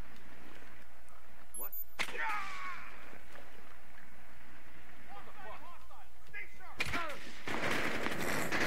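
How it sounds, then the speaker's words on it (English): Several sharp gunshots fire in the tactical shooter Rainbow Six: Siege during a hostage-rescue round, loud bursts near 2 and 7 seconds with a brief pop before, while players talk in the background. "Does it kill him with like 3 shots?"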